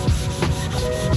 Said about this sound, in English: then hit it with this 120, and that 120 is going to give us a good surface to bond that bondo to